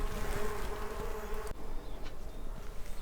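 Bees buzz in a winter garden on a warm day, a close, continuous droning hum that holds steady across the short stretch, with no voices.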